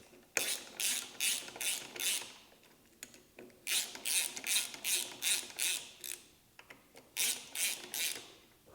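Ratchet wrench tightening bolts on a BMW S 1000 RR motorcycle, heard as three bursts of rapid ratcheting clicks, each a run of several quick strokes, close and clear with no talk.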